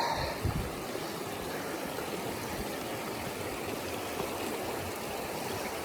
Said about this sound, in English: Yeah, buddy, river crossing.